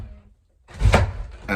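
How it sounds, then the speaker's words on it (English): A door is shut indoors with one solid thunk, preceded by brief low rumbling and a quiet pause, closing with a faint rattle. "I'm shutting the door."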